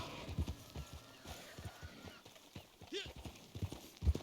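Horse hooves clip-clopping in the Red Dead Online video game, a quiet, irregular patter of hoofbeats under someone talking, with a brief snort or whinny partway through.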